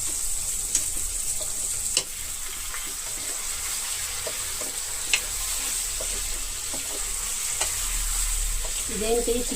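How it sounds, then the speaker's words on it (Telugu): Chicken pieces fry in hot oil, a steady sizzle with occasional sharp clicks of a utensil as they are stirred, close and continuous throughout, with a brief voice-like tone near the end. "మొత్తం వేసిన పీసులన్నీ కూడా ఆయిల్లో ఈవెన్గా స్ప్రెడ్ అయ్యేలాగా కలిపేసుకుందాం"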